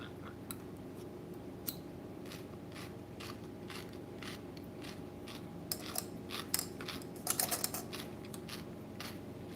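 Close, crisp crunching bites and chewing at an irregular pace, with sharper crunches clustered near the end over a steady low hum.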